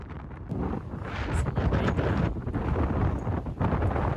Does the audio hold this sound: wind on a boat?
yes